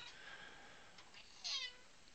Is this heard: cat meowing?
yes